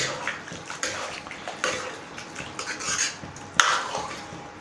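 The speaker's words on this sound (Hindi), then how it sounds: "तो इसको अच्छी तरह मिक्स कर देंगे हम।" Boiled nutri soya chunks stirred with water in a cooking pot, giving a run of wet scraping and sloshing with a few sharp clinks of a spoon against the pot, close and fairly quiet.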